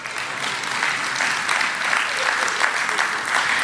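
Audience at a Hindi poetry recital breaking into applause, a thick, even roar of clapping from a large hall that holds steady throughout, loud and with no speech over it.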